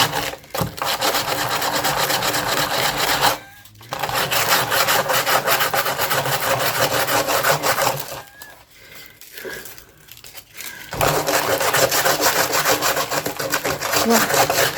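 Sandpaper rubbed hard against wood with strong PVA glue on it, a loud steady rasping scrape in long continuous strokes, broken by two brief pauses partway through.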